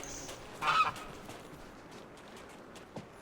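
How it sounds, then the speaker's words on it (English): A goose in the video game Disney Dreamlight Valley lets out one brief, loud honk over a quiet background, followed by a fainter second call near the end. "Goose."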